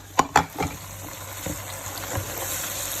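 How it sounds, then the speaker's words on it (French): Spoonfuls of blended paste dropped into a frying pot for a Senegalese dish, with two or three sharp spoon clinks and plops at the start, then a soft steady sizzle and occasional stirring knocks. "je vais mettre juste 2 à 3 cuillerées"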